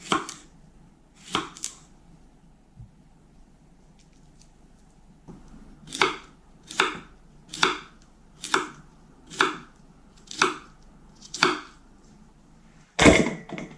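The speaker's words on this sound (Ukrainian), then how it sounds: "потрібно вже в вимитих огірочках відрізати хвостики та нарізати огірочки товщиною, такими кружечками, товщиною десь приблизно в пів сантиметра" A knife cuts washed cucumbers into rounds about half a centimetre thick on a board. A few scattered chops come first, then about eight even, crisp cuts in a steady rhythm and a final louder knock.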